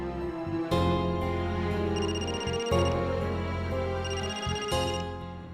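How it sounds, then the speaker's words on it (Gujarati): A telephone ringtone for an incoming call in a domestic TV drama scene: a repeating electronic melody that rings in about three bursts roughly two seconds apart, steady and moderately loud, with no talk over it. "રમાકાંતભાઈ, એમનો ફોન કેમ આવ્યો છે?"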